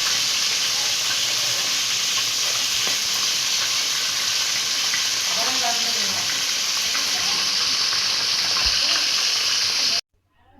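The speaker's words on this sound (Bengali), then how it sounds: "তেলের মধ্যে দিয়ে দিচ্ছে পেঁয়াজ কুচি" Chopped onions sizzle and crackle steadily in hot oil, a loud continuous frying hiss that runs for about ten seconds before cutting off abruptly.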